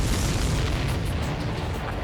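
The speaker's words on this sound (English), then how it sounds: "Did you see that explosion?" A loud, rumbling explosion from the flight combat video game Ace Combat 7 fills the clip with dense, booming noise that stays heavy throughout and fades slightly toward the end.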